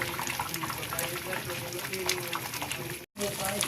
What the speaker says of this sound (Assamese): গুৰি দিয়া হৈ গল চাওকচোন কিমান ধুনিয়াকে উতলি আছে